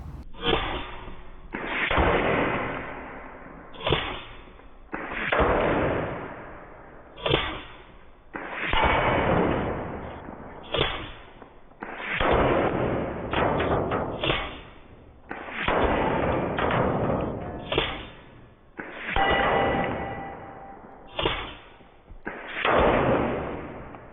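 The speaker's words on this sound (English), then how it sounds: "I'm going to go ahead and full auto strafe these guys" Full-auto rifle fire comes in repeated long bursts as targets are strafed, each burst loud and sustained, separated by short pauses, about a dozen volleys in a row.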